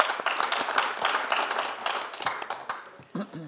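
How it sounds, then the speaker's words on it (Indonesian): Audience applause and clapping at a comedy roast show, a dense, steady burst of many hands filling the room, with faint voices mixed in. "Boleh minta tepuk tangannya?"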